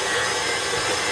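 A stand mixer kneads bread dough for Parker House rolls, its motor making a loud, steady, close-up whirring roar with no pauses.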